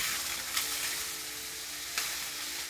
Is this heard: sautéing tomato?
yes